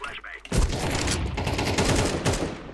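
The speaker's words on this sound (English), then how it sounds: "So he shot me a few times and fell back to cover." Rapid bursts of gunfire in a competitive first-person shooter match, loud and dense, with a near continuous string of shots trading back and forth for a few seconds.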